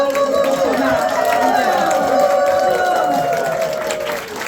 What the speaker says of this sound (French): On va applaudir très fort au docteur.